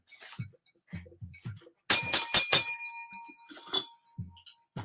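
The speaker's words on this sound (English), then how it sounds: "That's the first bell ring of the evening." A single bell rung once during a boxing round-up discussion, a bright metallic strike with a long ringing tone that decays over about a second, with a few faint taps and clinks before and after.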